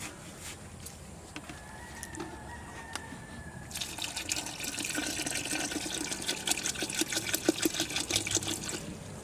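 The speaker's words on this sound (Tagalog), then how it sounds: "At tapos lalagyan natin ng mga 2 litrong tubig." About two liters of water poured into a container while making banana vinegar, starting as a faint trickle and then turning into a louder, steady splashing flow that builds toward the end.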